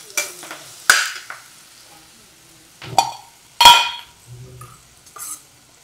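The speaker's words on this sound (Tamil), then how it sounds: "அடுத்தது இஞ்சி பூண்டு போடுமா" Short bursts of ginger garlic paste sizzling and being stirred in a hot pan, with a few scraping clinks of a utensil against the metal, close up and without talk.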